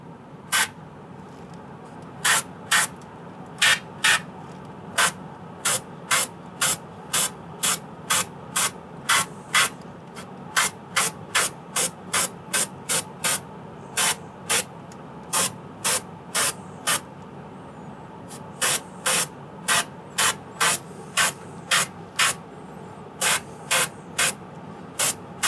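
Paint is sprayed onto a model in short, repeated hissing bursts, each about a second long, with a soft background hum in the gaps. The bursts continue steadily throughout.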